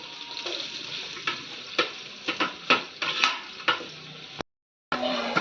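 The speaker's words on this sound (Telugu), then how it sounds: "ఫ్రైడ్ ఆనియన్స్ గోల్డెన్ బ్రౌన్ వచ్చేదాకా వేయించుకోవాలి" Onions frying in hot oil for boti dum biryani over a wood-fired stove, a dense steady sizzle with frequent stirring clicks and scrapes close by, then a brief drop to silence before the frying resumes.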